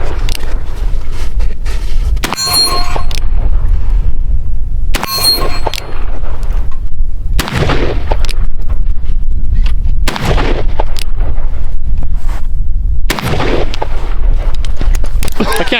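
Marlin 1894 Dark Series lever-action rifle in .357 Magnum fired outdoors on a range, several loud sharp reports spaced a few seconds apart over a steady background rumble.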